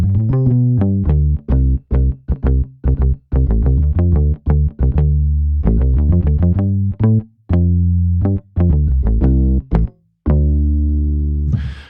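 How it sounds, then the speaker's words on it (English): A synth bass played as a keyboard instrument runs through a loud, close sequence of punchy sustained notes and short stabs with brief gaps, no voices. "So to have a bass sound like this that can fold down to mono really nicely"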